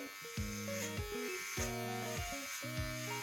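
Electric hair clippers buzzing through a self haircut cleanup, a steady close motor whine that shifts pitch in repeated strokes as the blades press against hair, loud and continuous without talk.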